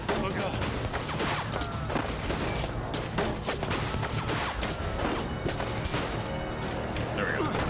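Heavy gunfire in the 1979 Revolution: Black Friday video game, a chaotic stretch of overlapping shots and crashes with loud bursts scattered densely across the whole stretch.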